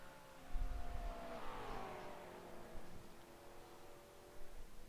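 Racing cars, McLarens and BMWs, in a sim racing road series whine past as engines rise and fall in pitch, a steady moderate drone with overlapping passes.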